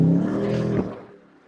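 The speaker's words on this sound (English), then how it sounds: "that car sounds really good" A Dodge car engine revs with a deep, throaty roar that holds loud for most of a second, then fades away as the revs drop, with no talk over it.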